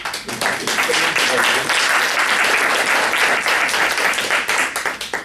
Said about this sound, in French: je crois qu'on peut vraiment l'applaudir.